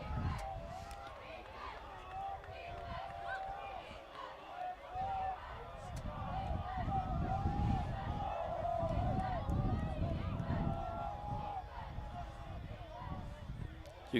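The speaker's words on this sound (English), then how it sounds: "You can hear both crowds here at the football field cheering." Crowds cheering at a high school varsity football game against Duxbury, a broad sustained roar and babble swelling steadily through the middle and staying loud, with commentary voices over it.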